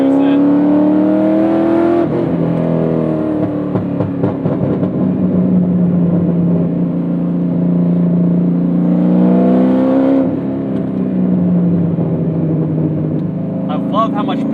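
A C6 Corvette V8 engine, a 2011 ZR1 or a 2007 Z06, revs hard in a loud, sustained drone that climbs and falls twice, close and continuous throughout.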